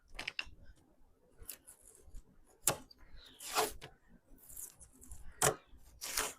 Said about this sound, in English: now I can take off the tape